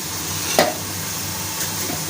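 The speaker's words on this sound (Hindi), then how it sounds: "प्याज भुनेगी, फिर मसाले ऐड करती हूँ" Onions frying in a pot for aloo anday ka salan with cumin and ginger-garlic paste added, giving a steady soft sizzle with one brief clink of stirring partway through.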